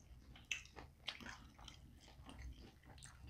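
Someone bites and chews crunchy Southwest BBQ chicken pizza up close, soft irregular crunches and wet chewing sounds at a quiet level with no talking.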